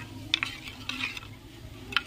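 A spoon stirs a spice mixture of turmeric, salt and water in a bowl, giving a few sharp clinks and scrapes against the vessel over a quiet background.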